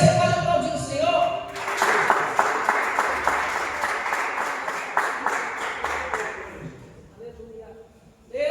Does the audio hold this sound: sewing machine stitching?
no